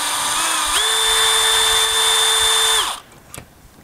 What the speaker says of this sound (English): now you can drill power your jack up and down